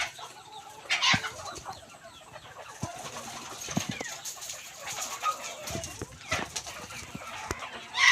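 Bantam chickens cluck and call around a feeding spot, with short irregular bursts near and far over steady farmyard background, with no speech.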